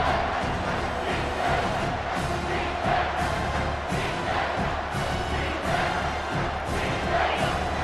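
A home stadium crowd roars in a college football video game between Oklahoma and Miami: a loud, continuous wall of cheering with slight rhythmic swells, no commentary heard.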